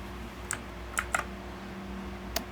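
Someone types Python code on a computer keyboard, producing a few sparse, distinct key clicks spaced apart over a steady low background hum. No one speaks.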